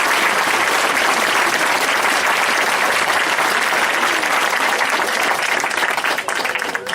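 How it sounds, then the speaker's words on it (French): A theatre audience applauds loudly and continuously, a full, dense roar of clapping that begins to break up and thin out near the end. "Oui, vous pouvez l'applaudir."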